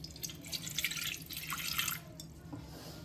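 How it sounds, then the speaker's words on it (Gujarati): About half a glass of water is poured into a pot to make Gujarati khaman batter, a close, quiet trickling and dripping splash lasting a couple of seconds before tapering off. "એમાં અડધા ગ્લાસ જેટલું પાણી ઉમેરશું."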